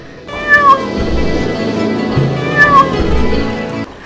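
A miller's cat meows twice, each call a clear, near, drawn-out cry, with a steady low background hum underneath and no talking.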